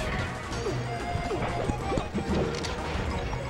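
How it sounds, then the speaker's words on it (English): A down smash lands in a Super Smash Bros. Melee match with Falco, Jigglypuff, Falcon and Marth, heard as a sharp hit among steady game sounds and crowd noise. "Scythe gives, gives Reeve a good down, down smash."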